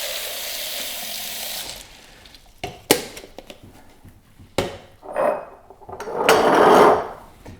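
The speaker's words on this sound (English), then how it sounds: "And then I just add some water." Water is poured into a jar of French lentils in short splashing bursts, separated by a few clicks and knocks, ending in a longer steady pour that rises and fades.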